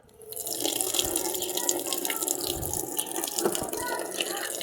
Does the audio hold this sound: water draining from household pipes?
yes